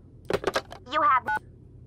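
In a Nancy Drew video game, a few quick telephone keypad tones beep in short succession, followed by a longer warbling phone signal and a final tone, clear and close, with brief talk.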